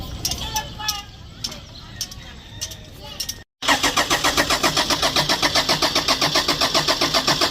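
A Toyota Innova with EGR work done has its engine cranked and caught after a brief pause, then settles into a loud, rhythmic, pulsing idle close by; someone talks briefly over the opening sounds.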